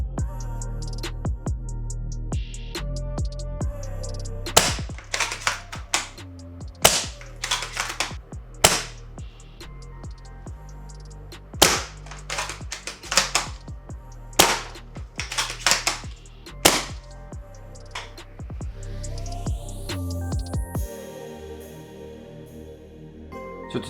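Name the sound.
SSG96 MK1 airsoft sniper rifle shots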